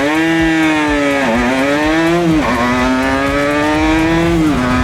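A Yamaha TZR 80 RR motorcycle engine revs up through several gears while riding on the road, each climb in pitch cut by a brief dip at the shift, loud and close throughout.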